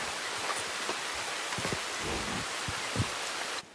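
Steady rain hisses evenly in the video game Red Dead Redemption, with a few soft, irregular taps and patters scattered through it, then cuts off abruptly near the end.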